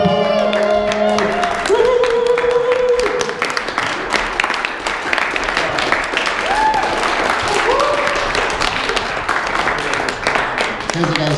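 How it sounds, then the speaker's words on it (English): Crowd applauding and cheering at an evening event as a speaker is introduced, loud sustained clapping with whoops throughout, while an amplified voice speaks over it in places. "Everybody stand up and give him a round of applause"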